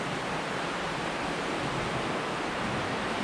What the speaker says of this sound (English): And the sound of the stream is going over a little, some ripples down here.